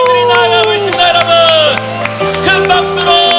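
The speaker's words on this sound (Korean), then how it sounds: "큰 박수로" A church congregation applauds children moving along the center aisle, with steady crowd clapping and cheering blended under loud sustained keyboard music throughout.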